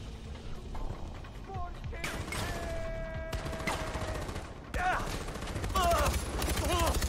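Gunfire in the video game Far Cry 4, bursts of rapid shots and scattered single cracks over a game soundscape, with someone talking between volleys.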